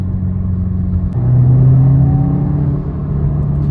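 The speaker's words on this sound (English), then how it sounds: "it's a very small turbo noise actually" A 2022 Subaru WRX with an aftermarket air filter, heard from inside the car, shows a steady engine drone that rises under throttle with a faint whistling whine over it, moderately loud.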